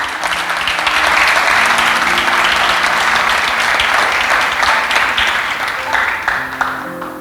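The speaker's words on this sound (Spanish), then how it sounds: "Yo que usted aplaudiría." A church congregation bursts into sustained, loud applause during a sermon, steady dense clapping that fills the room before fading slightly at the end.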